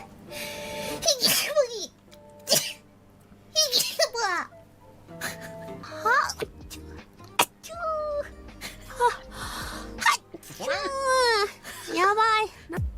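Several sneezes come in quick bursts from a played compilation of streamers, mixed with giggles, squeals and chatter, close and loud.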